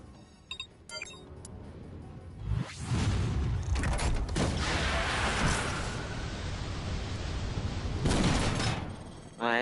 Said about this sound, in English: Sniper shootout.